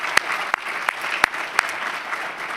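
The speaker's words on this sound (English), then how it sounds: "Round of applause for your head table." A Canadian Club luncheon audience applauding its head table with light, scattered clapping, a few sharp individual claps standing out over a soft patter.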